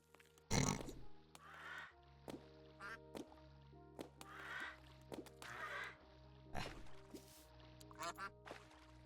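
Cartoonish duck quacks from the Terraria video game, several short bursts scattered over a steady in-game background tone, with occasional clicks and small blips between them.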